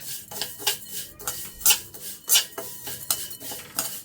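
Pre-roasted vermicelli being stirred in ghee in a pan, a run of sharp metallic scrapes and clinks from a spoon against the pan, repeating in quick uneven strokes, close and with no talking.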